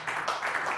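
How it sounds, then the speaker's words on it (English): Light, scattered clapping from a small audience at a software presentation, right after a demo of an app listing game titles and box art; a few quiet hands patter briefly. "You're supposed to clap for that, Matt."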